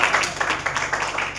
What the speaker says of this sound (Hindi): एक बार जोरदार तालियां कर दीजिए